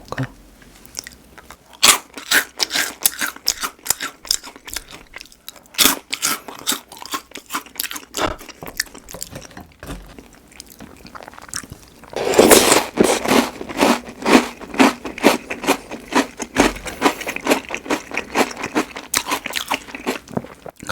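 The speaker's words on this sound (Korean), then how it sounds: "그럼 이번엔 시나몬 추러스도 먹어볼게요." Crunchy cinnamon churro cereal is bitten and chewed right at the mic, dense crackling crunches repeating steadily, with a louder burst of chewing partway through and brief soft speech.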